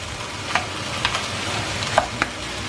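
Pork and onions stirring in a frying pan for Ilocano dinakdakan, a steady soft sizzle broken by a few sharp scrapes and clacks of the utensil against the pan.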